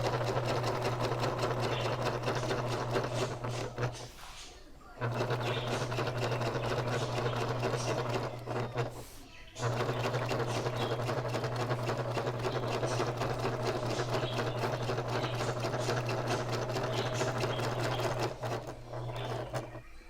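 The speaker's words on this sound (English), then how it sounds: "I'm going to sew about 1/8 of an inch from the edge of this" A sewing machine stitches through vinyl and several layers of a handbag base, a steady close mechanical whirr that runs continuously, with two brief pauses before it starts again.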